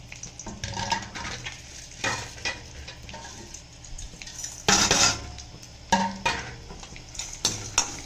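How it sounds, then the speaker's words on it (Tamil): Coriander seeds, chana dal, urad dal and fenugreek dry roast in a pan, with repeated scraping and stirring strokes of a spoon against the metal and faint sizzling between them, close up and without talk. "இதை நம்ம செவக்க வறுத்துக்கலாம் இது நல்லா வறுபடட்டும் பார்க்கலாம்"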